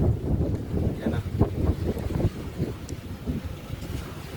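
Gusty wind buffets the microphone in uneven bursts, with a low rumbling roar of open-air breeze by the shore.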